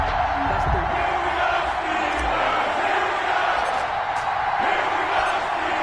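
A video-game stadium crowd at an NFL match between the Cleveland Browns and Pittsburgh Steelers roars as a steady, dense wash of cheering, with a commentator's voice running over it.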